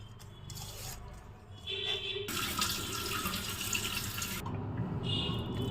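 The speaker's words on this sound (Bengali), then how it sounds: "পানি দিয়ে দিলাম।" Water poured into a wok of small kachki fish cooking in mustard oil, a steady gushing splash that swells after a quieter start and runs on continuously, with faint kitchen clatter around it.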